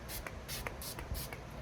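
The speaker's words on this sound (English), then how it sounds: "So setting spray from Makeup Revolution." A Makeup Revolution setting spray fires in several quick, close pumps, each a short airy hiss separated by brief gaps.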